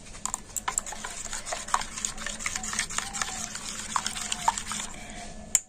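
Rice flour batter with a little salt being stirred by hand in a bowl, giving soft, irregular wet scraping and sloshing with occasional clicks, continuous and close, no voices.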